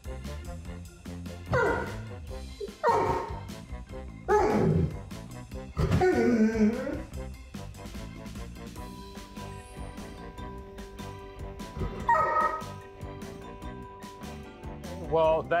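A dog lets out a series of drawn-out, howling vocalizations, close and loud, with pauses between them and a faint steady tone in the background.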